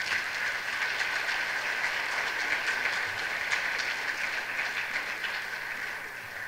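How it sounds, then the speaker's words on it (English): A round of applause for seniors at a high school FFA banquet, dense and even clapping from a large crowd that holds steady for about six seconds. "to all these seniors, let's thank them and give them a round of applause here"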